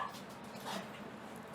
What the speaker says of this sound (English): We got a dog fight going on.